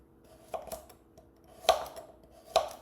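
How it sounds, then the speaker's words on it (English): A raw carrot is bitten and chewed up close: three crisp, crunchy bites spaced about a second apart, each followed by fainter chewing crunches in an otherwise quiet room. "And then have a carrot."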